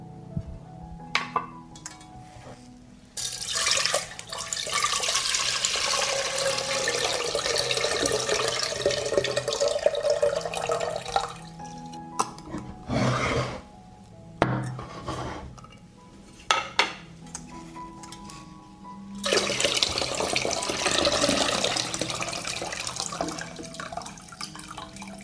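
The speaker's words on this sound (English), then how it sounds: "I pour the water from the jar into a saucepan" Water poured from jars into a saucepan in a kitchen, a steady splashing stream in several long pours broken by clinks and knocks of glass and metal, close and fairly loud, with no talking.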